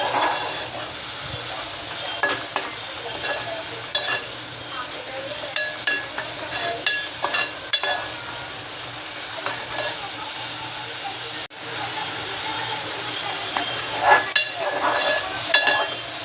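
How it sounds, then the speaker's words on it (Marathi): Onions sauté in a pan until golden brown under a continuous close sizzle and hiss, with repeated spatula scrapes and stirring knocks throughout; there is no speech. "कांदा आता चांगला गोल्डन ब्राऊन कलरचा होईपर्यंत आपण परतून घेऊया व्यवस्थित."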